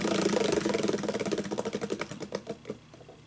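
A digital roulette wheel spins and slows down: a dense rapid ticking at first that spaces out into distinct, slowing clicks before stopping, close and moderately loud, with no talking.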